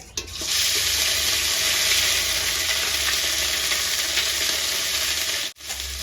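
One cardamom pod, three cloves and a piece of cinnamon frying in hot oil: a loud, even crackling sizzle that bursts in and holds steadily, with a brief dip near the end.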